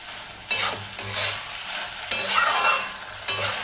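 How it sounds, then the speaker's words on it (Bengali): Bitter gourd and potatoes with mustard paste are stirred in a pan over high heat. Three rough scraping strokes of the spatula sound over a soft, continuous sizzle. "তুলে দিয়ে একটু নাড়াচাড়া করে নিয়েছি"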